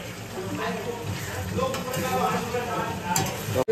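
Chicken being stirred and fried in a pan with a metal spatula, soft scraping strokes and a low sizzle running steadily under a person talking.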